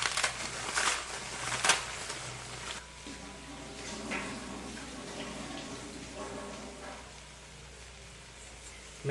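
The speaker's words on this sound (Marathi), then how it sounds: "याच्यात आता मॅगी टाकू." Maggi noodles are dropped into a pan of water with fried onion, giving a few crunchy, splashing knocks early on, then a low, bubbling wash of liquid with scattered small clinks.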